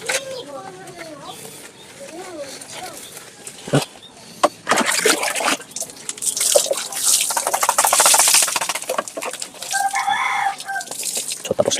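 Water splashes and sprays steadily while a dog is bathed outdoors, preceded by quieter drips, with a person talking and roosters crowing and clucking in the background.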